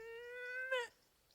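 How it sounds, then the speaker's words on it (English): A cartoon dog tries to meow, giving one drawn-out, cat-like tone that rises to a brief peak and cuts off, fairly quiet and heard alone. "Are you trying to meow?"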